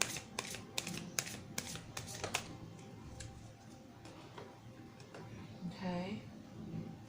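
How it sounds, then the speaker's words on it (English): Tarot cards shuffled by hand in a quiet room, a soft run of quick riffling flicks at the start, then faint handling sounds beneath a speaking voice. "Once I give this a little shuffle,"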